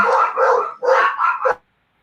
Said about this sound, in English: we gotta mute me because we got the dogs barking